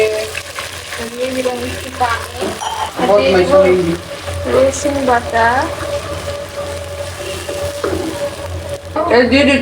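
Onions and spices sizzle and fry steadily in a pan with occasional stirring scrapes, while a person talks over it.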